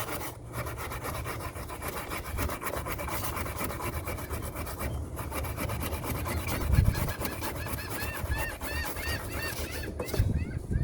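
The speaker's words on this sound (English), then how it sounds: "put it down where I can get a good scrape on it." A hand tool rasps back and forth on a corroded 2007 Toyota Tundra battery wire in rhythmic close strokes. Squeaky chirps run through the later scraping.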